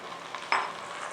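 Keema mince and tomato frying together in a karahi gives a soft, steady sizzle with one brief stirring scrape partway through, faint and close, with no voices.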